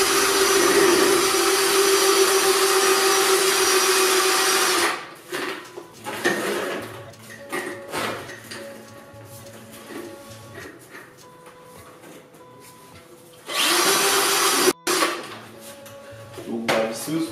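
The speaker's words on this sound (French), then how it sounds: "On va essayer directement avec la visseuse." A cordless screwdriver in screwing mode spins a Virax VAL 26 drain cleaner at low speed, a steady loud whirring hum for several seconds that stops, leaves quieter clicks and rattles, then returns for a short burst.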